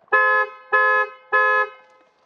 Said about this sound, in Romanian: Foarte, foarte puternic claxonul.